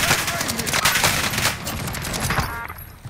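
Rapid bursts of gunfire crackle through a Warzone firefight, dense and loud for nearly three seconds before thinning out, with players talking over the shots.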